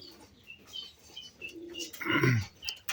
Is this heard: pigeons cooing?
yes